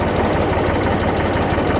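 A tractor engine idles nearby with a steady, low chugging drone, loud and unchanging, no voices.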